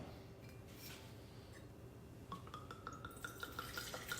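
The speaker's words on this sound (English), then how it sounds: "we're just going to pour a quick glass of this" Wine is poured into a glass: faint background at first, then a liquid stream begins and the glass fills with a rising, bubbling gurgle, close and clear.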